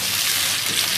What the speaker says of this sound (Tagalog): Tapos lagyan natin ng tubig.